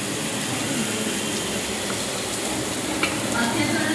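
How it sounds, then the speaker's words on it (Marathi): Garlic and grated coconut roast in a pan for a spicy Maharashtrian drumstick vegetable dish, giving a steady, close sizzle with faint stirring throughout. "आपण लसूण खोबरं टाकून घेतो आहे. छान भाजून घ्यायचं आहे."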